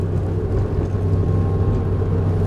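Windy 37 Shamal motorboat running hard toward a 40-knot cruise at about 3,000 RPM, a loud, steady low engine drone with rushing wind and water noise, no voices.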